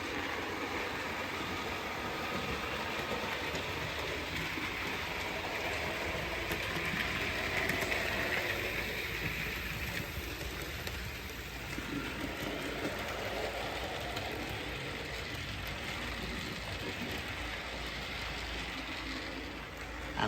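A model railway train running around a layout, a continuous low rolling rumble with faint wheel clatter, steady and fairly close, with no talking.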